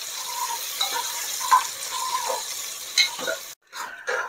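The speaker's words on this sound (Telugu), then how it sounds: "సో ఆనియన్స్ ఇవన్నీ బాగా ఫ్రై చేయాలి" Onions and lengthwise-slit green chillies fry in a pan with a steady close hiss and occasional stirring scrapes, cut off abruptly near the end.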